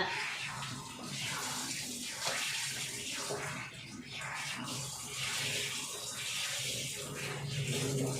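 Mustard greens being rinsed clean under a steady stream of running water at a sink, continuous splashing and trickling throughout, close and fairly loud, with a voice faintly present beneath.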